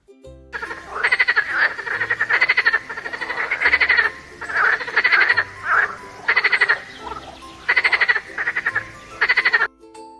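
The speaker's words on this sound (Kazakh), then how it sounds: "Бақа бақылдайды." A frog croaking in loud, rapid, rattling bursts grouped in a steady rhythm, close and clear over a quiet background melody.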